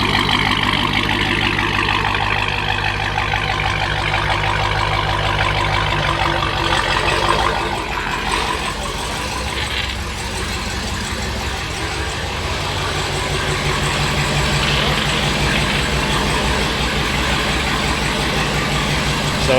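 A modified Dodge Hellcat with a colour intake, upgraded coil packs, catless pipes and a lower pulley runs on a dyno, a loud steady engine drone that holds throughout with a slight dip midway.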